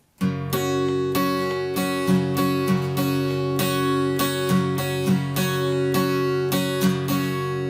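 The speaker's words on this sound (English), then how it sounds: "So you can hear how those up strums are ringing out" An acoustic guitar strums a syncopated rhythm of down and up strokes, chords ringing out clearly and steadily, close and fairly loud.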